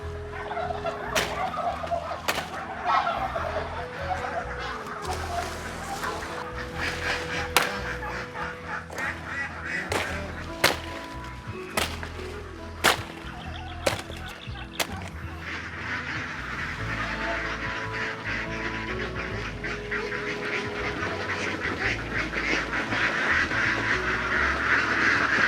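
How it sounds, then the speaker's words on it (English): Free-ranging ducks and other fowl on an exotic bird farm call steadily, with sharp quacks and gobbling cries standing out over a busy, continuous chorus of birds. "We have started free ranging our ducks over there."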